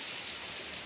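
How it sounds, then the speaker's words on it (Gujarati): Heavy rain pours down at night, water streaming off the roof eaves in a dense, even hiss, brief and close with no voices. "બહુ વરસાદ છે, બહુ."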